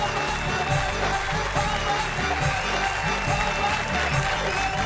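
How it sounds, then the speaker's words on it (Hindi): Studio audience at a televised Hindi poetry show clapping steadily in a dense, continuous round of applause with some crowd noise, lasting the whole stretch. "और भाई आप लोग जरा तालियां बजाइए।"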